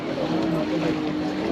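A small ferry boat near Mumbai, its own motor failed, is towed back across the sea, giving a steady low engine drone with wind buffeting the microphone and faint voices in the background.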